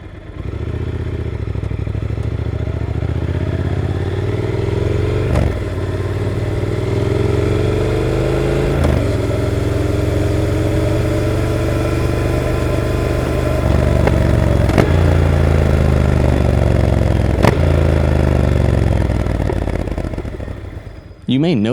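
Triumph Speed Twin motorcycle engine recorded onboard while riding, a steady loud mid-range rumble that rises and falls with speed, with sharp clatters at gear changes and a faint whiff of wind throughout.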